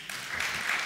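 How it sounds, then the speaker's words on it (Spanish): Audience applause at a local-image strategy talk, a dense, steady wash of clapping at full level through the whole second with no voices over it. "el posible aplauso que venga ahora no será para mí"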